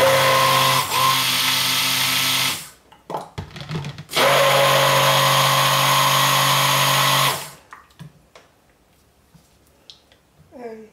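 An electric blender whizzes sugar syrup into lye solution for cold-process soap: two loud, steady bursts of motor whine, a short one and a longer one, separated by a brief pause, then quiet.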